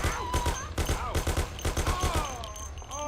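Rapid bursts of gunfire ring out in a shootout in the Mafia video game, repeated cracks in quick rhythm with a voice talking over the shots.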